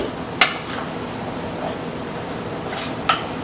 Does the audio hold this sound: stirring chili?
yes